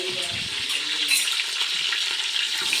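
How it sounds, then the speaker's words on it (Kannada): Curry leaves crackle and sizzle in hot oil for a brief, loud and steady burst of frying noise, close up, while masala avalakki is being cooked. "ಚಟಪಟ ಚಟಪಟ ಕರ್ಬೇವಿನ ಸೊಪ್ಪು ಹಾಕಿದ್ರಮ್ಮ"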